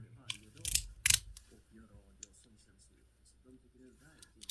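A Four Leaf Clover magnetic pivot slider snaps through its positions in a few crisp, close clicks, spaced unevenly, while someone talks over and between them.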